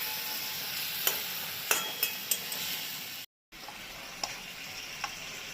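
Pointed gourd kofta fries in a pan with a steady sizzle, punctuated by several sharp clinks and scrapes of a spoon stirring against the metal, with a brief silent gap.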